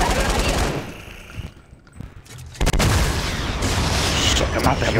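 Fortnite gunfire in a game of cops and robbers, loud dense bursts of shots that drop to a brief quieter gap, then erupt again into sustained rapid fire.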